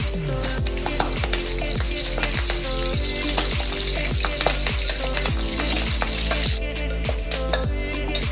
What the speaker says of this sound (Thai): เอาใบประกูดกับพริกแห้งครับไปทอดเอาไว้สำหรับร้อยหน้าลาบปลาตะเพียนครับ